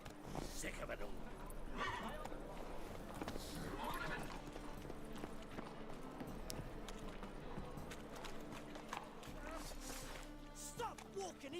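Roach the horse clip-clopping in The Witcher 3, steady hoofbeats running under loud game music and ambience, with people talking over it and a brief whinny.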